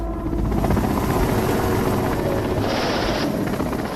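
Russian military Mi-8 utility helicopters in an airborne assault on Hostomel airbase near Kyiv make a continuous, close rotor and engine roar with a steady low throb and a higher whine partway through. No one speaks.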